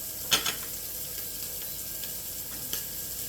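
Bacon sizzles and fries in a pot during corn chowder preparation, a steady crackling hiss with a few sharp pops and light scraping as it is stirred.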